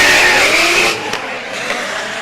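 A drift car engine revs hard on the gas at a Formula Drift pro-am event: a loud, high, sustained roar that drops lower and rougher about halfway through, with no voices.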